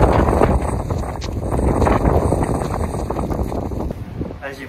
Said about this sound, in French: Le vent aujourd'hui, c'est le plus fort que j'ai jamais eu depuis le début du voyage.